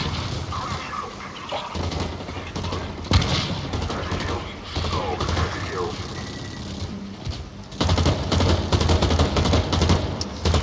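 Scattered gunfire during a Blacklight Retribution turret gunfight, with bursts and single shots of varying distance mixed with game effects under a commentator's steady talk.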